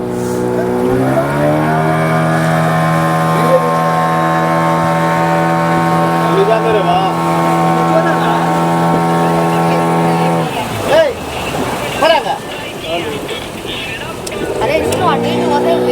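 A motorboat engine on a ride into the mangroves near Pondicherry holds a steady, loud droning hum, then shifts and wavers near the end, with people talking over it.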